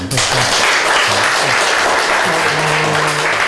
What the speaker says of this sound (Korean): 2시간 또 함께해 주신 선생님께 큰 박수로